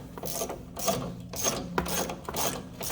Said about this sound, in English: I can switch to my ratchet and continue taking this off